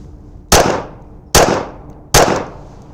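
Three sharp gunshots from a Magnum Research Micro Desert Eagle .380 pistol fired on an outdoor training range, evenly spaced about a second apart, each a loud crack with a short decaying tail.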